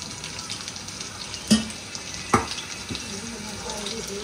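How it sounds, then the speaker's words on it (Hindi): Sawa millet toasting in hot ghee in a home kitchen for kheer, a soft continuous sizzle broken by two sharp clattering knocks midway, with a faint murmur of background activity. "फिर घी में अच्छे से सेकेंगे"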